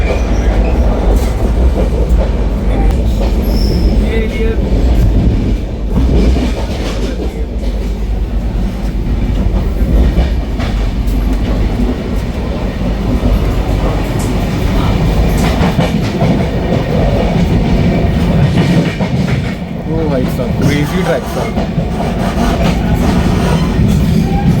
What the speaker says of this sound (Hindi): काफ़ी बढ़िया रफ्तार से जो है हमारी ट्रेन मथुरा स्किप कर रही है